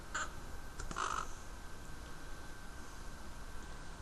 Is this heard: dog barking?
no